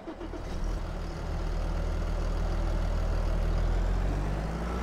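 An engine starting up in Farming Simulator 22, cranking briefly and then settling into a loud, steady low diesel rumble close by that runs throughout.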